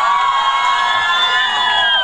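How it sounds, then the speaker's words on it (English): A festival crowd on a college north campus cheering and shouting loudly and continuously, with high whoops and children's voices in a dense, close roar; no distinct clapping stands out. "a round of applause for my man Apar Shakti."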